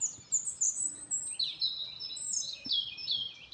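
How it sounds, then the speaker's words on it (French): Several birds sing in the morning outdoors, a steady run of bright high chirps and warbled phrases close by, with faint low rumbling underneath and no voices. "Écoutez les oiseaux chanter dès ce matin"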